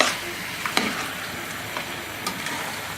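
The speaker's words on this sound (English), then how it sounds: "And now, as you can see, the stew is cooking here." Broccoli and butter bean stew bubbles and simmers in a pot, a steady close sizzling hiss broken by a few soft clinks and stirring scrapes, with no voices.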